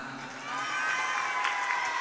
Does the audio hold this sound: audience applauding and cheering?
yes